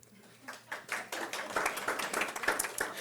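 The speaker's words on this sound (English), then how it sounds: "you can clap here" An audience at a school district Board of Education meeting claps in recognition of National Honor Society students, starting with a few scattered hand claps that build into a modest, fairly quiet round of applause.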